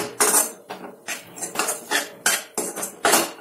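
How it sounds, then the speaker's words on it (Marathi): Gram flour and capsicum get stirred and sautéed in a pan with rhythmic metal spatula scrapes and clinks, about six distinct strokes spaced evenly and heard up close. "आता बेसनला व्यवस्थित आपण परतून घेऊ।"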